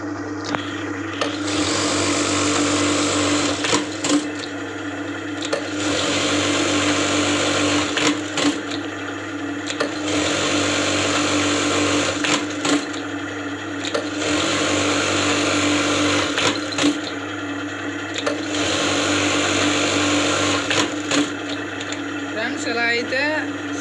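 A buttonhole (kaj) sewing machine stitches thick fabric, its loud motor whirring in repeated bursts with brief pauses between runs and a steady low hum throughout.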